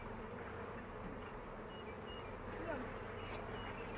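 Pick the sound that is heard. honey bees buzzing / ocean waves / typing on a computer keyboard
honey bees buzzing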